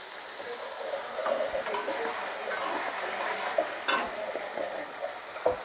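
Prawn malai curry masala with mustard paste sautés in a pan, a continuous close sizzle broken by repeated stirring scrapes and occasional utensil knocks against the pan.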